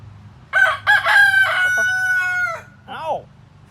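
A pet hen squawks and calls in loud, agitated bursts, with a drawn-out, crowing-like cry that rises over a low background hum and ends in a short rising squawk.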